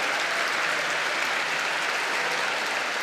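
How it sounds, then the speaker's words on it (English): At a tennis match, a crowd gives a steady, loud ovation of dense clapping that fills the arena without a break. "and a huge ovation"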